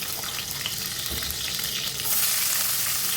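Chopped onions frying in hot oil with bay leaf, cinnamon, green and black cardamom, a steady close sizzle with soft stirring scrapes and no voices.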